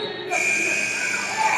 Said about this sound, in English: The buzzer goes off.